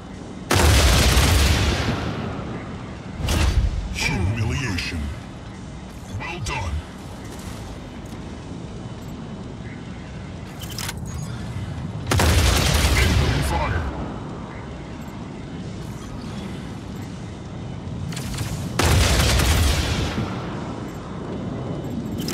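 Video game combat with booming explosions and bursts of gunfire, several heavy blasts punctuating the loud, chaotic mix while an announcer voice calls out between the impacts.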